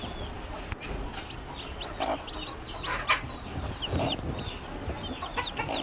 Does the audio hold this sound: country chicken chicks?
yes